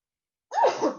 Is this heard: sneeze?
yes